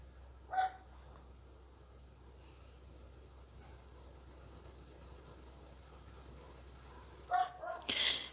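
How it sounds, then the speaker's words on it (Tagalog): A pet dog barks outdoors at a passing dog, one sharp bark early on and then a short burst of several barks near the end, with quiet steady background hum in between. "Ayun, tahol na tahol yung aso namin."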